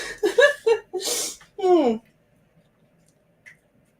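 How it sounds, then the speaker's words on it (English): A single close sneeze bursts out after a few quick breathy sounds, followed by a short voiced exhale, then near silence with one tiny click. "I think I'm gonna sneeze."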